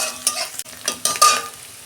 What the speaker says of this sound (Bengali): পেঁয়াজটা আমি 2 মিনিট ভেজে নিই